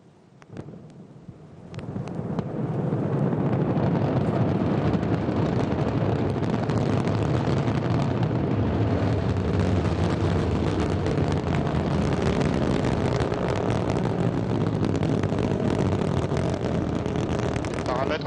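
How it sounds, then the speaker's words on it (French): An Ariane 5 rocket lifts off with its Vulcain engine and solid boosters, and a dense, continuous roar builds over the first two seconds, then holds loud and rumbling, heard from a distance with heavy low-end crackle. "Ariane 5 a décollé et en 40 secondes, le lanceur a déjà dépassé Mach 1."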